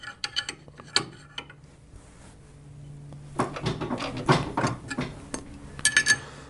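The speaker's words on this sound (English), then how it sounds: "So I'm just going to tighten this here wrench on it." Metallic clanks and ratcheting clicks of a wrench tightening a bolt on a Panhead motorcycle near a pulley and belt, close and irregular, with scattered clinks of tools.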